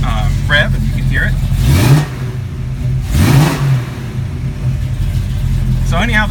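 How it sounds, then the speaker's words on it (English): A 1974 AMC AMX Javelin's engine idles nearby, then is blipped twice in quick succession, each rev rising and falling before settling back to idle. "Give it a little rev and you can hear it."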